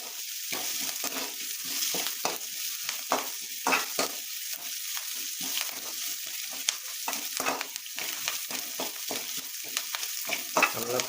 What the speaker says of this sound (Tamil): இந்த வெங்காயத்தை நல்ல பொன்னிறமாக வணக்க போகிறோம்.